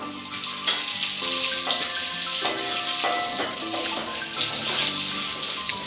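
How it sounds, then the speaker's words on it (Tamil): Red chillies and curry leaves go into hot oil right after mustard seeds pop for a neem flower rasam, giving a continuous bright hiss and sizzle with scattered crackles and a few tonal clinks close by. "இது கடுகு பொரிஞ்ச உடனே ரெண்டு மிளகாய் கிள்ளி போட்டுக்கலாம் ஒரு கருவேப்பிலை உருவி போட்டுக்கலாம்"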